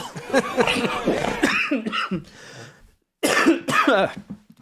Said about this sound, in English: I'm coughing my lungs out